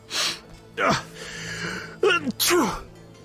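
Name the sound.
sneeze in a video game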